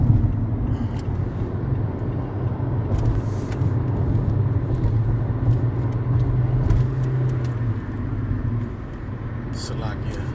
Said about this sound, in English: Driving on the expressway.